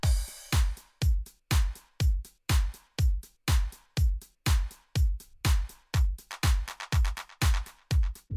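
A programmed drum beat from a remake made in Logic Pro X runs steadily with punchy kicks and crisp snares or claps. The hits are evenly paced and close, speeding into denser hits near the end, with no voice.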